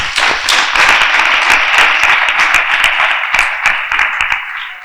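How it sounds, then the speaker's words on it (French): Schoolgirls at a girls' secondary school in Bouaké applaud loudly, a dense, steady burst of many hands clapping that holds strong for about five seconds before thinning slightly at the end. "je voudrais que vous applaudissiez très fort"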